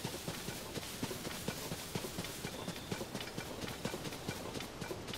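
Horse hooves clip-clop in a steady, quick rhythm in the video game Zelda: Tears of the Kingdom, a faint and even stream of hoofbeats over a soft background with no one speaking.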